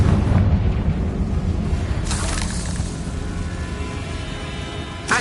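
Confringo explosion spell from Hogwarts Legacy on PS5, a heavy, rumbling eruption up front that fades into a sustained low roar, with a brief sharp crack midway and another burst right at the end.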